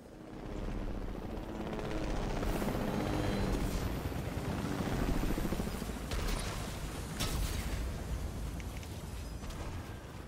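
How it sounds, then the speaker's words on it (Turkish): Helicopter drawing near in Fortnite, a loud continuous rotor roar that swells and holds steady for about ten seconds, with no talk over it. "Helikopter geliyor."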